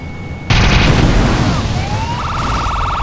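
Heavy gunfire and a loud burst erupt in GTA San Andreas, a sustained roaring barrage with a siren wailing behind it, loud and close.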